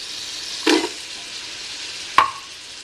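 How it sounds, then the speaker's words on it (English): Onions and celery sizzle in a soup pot for a chicken gnocchi soup, a steady soft frying hiss broken by two brief clattering knocks of stirring or adding vegetables. "I'm going to go ahead and add my onions. And I'm going to add my celery."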